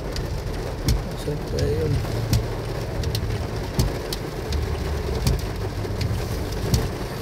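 Steady rain falls loud and close on a surface during a trip to Butuan City, with scattered drips and birds cooing in the background while people talk briefly in Filipino.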